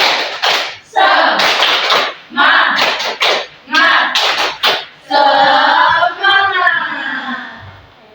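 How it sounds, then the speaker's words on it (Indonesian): Primary school class performing a rhythmic clap chant together, bursts of clapping in a set pattern alternating with loud group chanting, close and energetic, ending in a longer sung-out phrase from the children. "Ayo, tepuk semangat."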